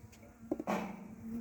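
Calm honeybees buzz steadily around a hive, a low droning hum with a few louder clicks and bumps nearby.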